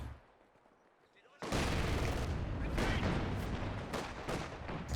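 Dense machine gun fire from LMG Grenadiers in the strategy game Company of Heroes 2 bursts in abruptly after near silence, then rattles loudly and continuously in rapid overlapping volleys.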